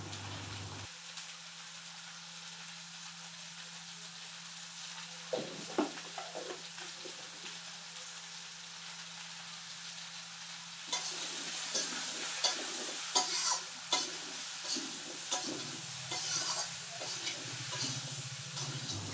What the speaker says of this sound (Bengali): সবজিগুলো কড়াইতে দিয়ে দিয়ে আমি পরিমাণ মতো নুন আর হলুদ দিয়ে দিলাম